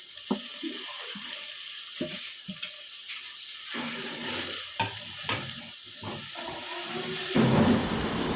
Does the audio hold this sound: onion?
yes